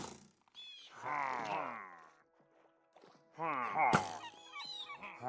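Seagulls squawk in a video game, harsh honking calls in two bursts with rising and falling cries, fairly loud and close, mixed with sharp game effects and a clatter.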